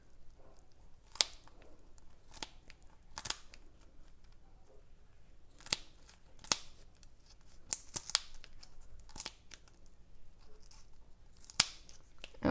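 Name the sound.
cutting a quail open from neck to tail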